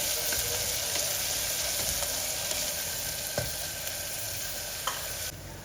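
Onion sizzling in hot oil in a pan for a fenugreek gravy, a steady broadband crackle with occasional soft stirring clicks, close and continuous with no talking.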